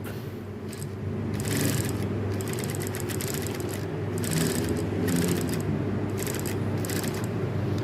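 A sewing machine stitching fabric while an invisible zipper is sewn in, giving a close, steady mechanical whir with rapid clattering bursts starting and stopping in short runs, with no talk.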